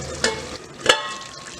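Green chillies sizzle gently in a covered pan, a soft steady frying hiss with two brief sharper clinks or stirs, heard close with no talking.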